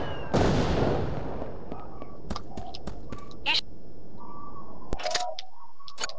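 Gunfire and explosions in the video game Mercenaries: Playground of Destruction, with a loud blast followed by scattered sharp shots and distant booms, while a voice speaks over part of it.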